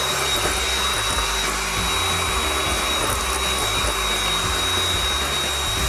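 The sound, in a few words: electric mixer whipping egg whites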